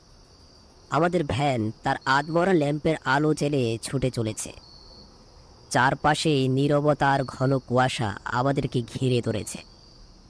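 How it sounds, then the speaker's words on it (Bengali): Crickets chirp without pause in roadside bushes beside open fields at night, a thin, steady high drone running under continuous narration. "দুপাশের ঝোপঝাড়ে একটানা ঝিঝির ডাক ভেসে যাচ্ছে বহুদূর।"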